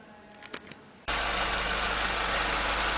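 A Chevrolet Spin engine with a fault noise starts abruptly after a moment of quiet and runs at a loud, steady idle with broadband roar and low rumble, close up.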